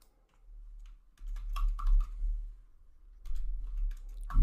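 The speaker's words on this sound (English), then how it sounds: "I'm just gonna open the notepad here and type some message" Bursts of close computer keyboard typing on a notepad message, with quick clicky keystrokes in clusters separated by short pauses.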